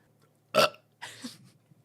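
A loud, short burp followed by a second, longer throaty belch, both up close against near silence.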